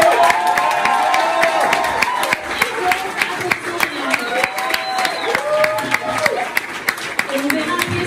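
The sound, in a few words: audience applause at a political rally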